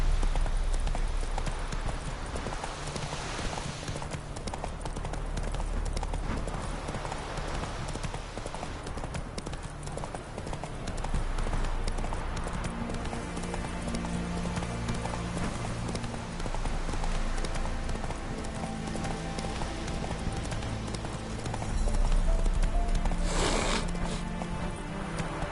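Roach the horse gallops in The Witcher game, with steady, rhythmic hoofbeats sustained throughout over a dense background of game music and ambience.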